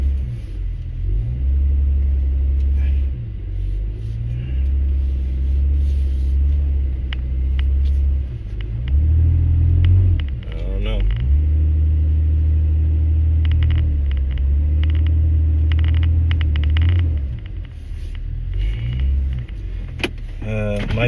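A Nissan Maxima, around 2009 to 2014, drives after a transmission valve body replacement, its engine and road rumble a steady low drone that rises and falls with a few shifts in pitch. People talk over it at times.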